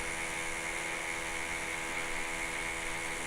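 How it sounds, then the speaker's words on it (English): A neighbor's drill runs steadily and continuously in the background, a droning, whining mechanical hum with no pauses, heard alongside constant room noise and no talking. "I'm not sure if you can hear the drilling in the background."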